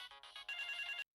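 An incoming call sets a phone ringtone playing, a bright electronic melody of quick repeated tones that holds steady and then stops abruptly, with no talk over it.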